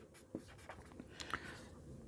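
Writing on a board in a classroom lesson: a few short, faint scratching and tapping strokes in quick succession, quiet and close, with no talk.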